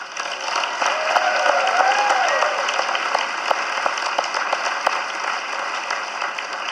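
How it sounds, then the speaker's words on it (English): An audience at a benefit concert gives a round of applause, a steady wash of many hands clapping with a few louder nearby claps standing out, lasting several seconds. "She deserves a round of applause."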